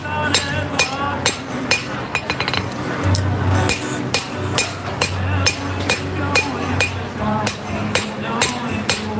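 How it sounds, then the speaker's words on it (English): Hammer blows ring out on an anvil as a knife blade's bevels are flattened by forging at an outdoor farmers market, a steady series of sharp metallic strikes, some doubled as rebounds, over a low crowd murmur. "we'll get a little bit of height by forging the bevels down flat"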